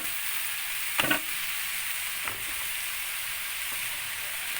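Ingredients and shrimp paste sautéing in a pan give off a soft, steady hiss, with a couple of brief spoon clatters near the start and middle. The sound is faint and close.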